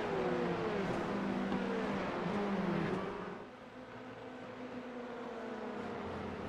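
Race cars lapping Mugello in a sim racing game, a pack of engines droning with shifting revs that drop and fade a little partway through, no talk over it.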